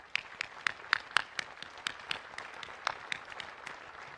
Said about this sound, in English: and it deserves another round of applause.